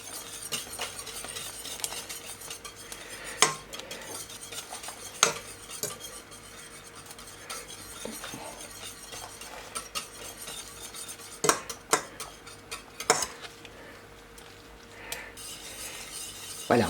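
A utensil stirring Munster cheese as it melts in a pan, with soft scraping and occasional sharp clinks against the metal over a quiet background.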